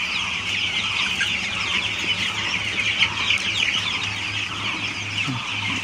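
Many broiler chicks, eleven days old, cluck and chirp together on a poultry farm in a constant, busy chorus, fairly close and loud throughout.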